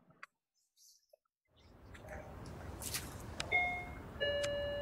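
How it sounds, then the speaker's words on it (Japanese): A doorbell chime rings in the Lost Judgment video game, sounding as two bright tonal dings after a quiet opening and a rise of background noise. "お、チャイムを鳴らしましたね。"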